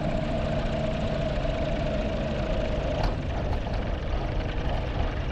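Avid light aircraft engine droning steadily and loud throughout a landing at a private airstrip, its pitch holding level with a few brief bumps near the end.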